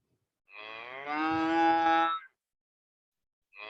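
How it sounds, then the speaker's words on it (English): A single cow moos loudly and close up, one long rising, drawn-out bellow, then a short silence before another moo begins. "That's the mooing of a cow."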